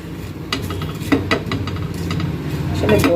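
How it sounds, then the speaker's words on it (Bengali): Whole cardamom pods stirred and dry-roasted on a flat griddle, with soft scraping and light clatter of a utensil in an irregular rhythm, close by and moderately loud with faint room noise. "চাটুতে বসিয়ে দিলাম চাটুতে একটু নাড়াচাড়া করে ভেজে ভেজে নেবো"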